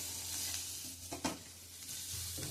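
Guava pieces sautéed in a pan over a lowered gas flame, a soft continuous sizzle broken by a couple of brief stirring scrapes, close and fairly quiet, with a low steady hum beneath.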